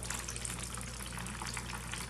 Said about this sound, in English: might again have to water this 4 or 5 or 6 or 7 times just like this to make that absorb all of that water